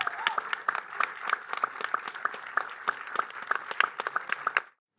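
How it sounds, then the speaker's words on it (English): A seated audience applauds the cast and crew of Killer Soup at a film-festival conversation event, steady dense clapping with sharp individual claps throughout, cutting off abruptly near the end. "a big round of applause for these guys"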